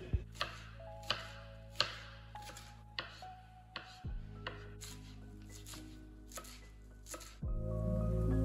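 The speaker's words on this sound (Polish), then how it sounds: "Także wszystko kroimy do miski" A knife chops salad ingredients on a board in a kitchen, landing in a series of crisp, irregular strikes close by while a low hum runs underneath and swells near the end.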